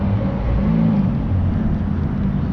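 A Ferrari drives past on a Tokyo street, heard as a low, steady engine rumble at moderate distance with traffic noise around it and no voices.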